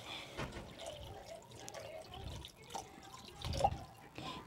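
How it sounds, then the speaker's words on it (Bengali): Water splashes and trickles into a pan of fish curry with yogurt, a soft pour with faint clinks, fairly quiet and close, no talk. "তো জল দিয়ে দিচ্ছি।"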